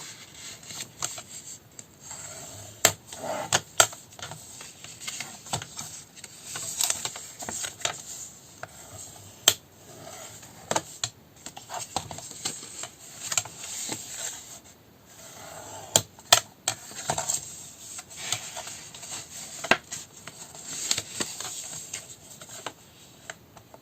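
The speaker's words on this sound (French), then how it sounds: "Maintenant, on va marquer tous nos plis." Folds of a paper tea box are creased one after another, giving sparse, faint rubbing and ticking scrapes with sharp little clicks spread over a quiet background, close up and with no talking.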